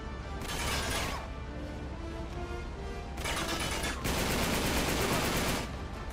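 Blind-fire gunfire in Uncharted 3: Drake's Deception during a ballroom firefight: dense, loud bursts of rapid automatic shots that run almost continuously, with brief lulls between volleys.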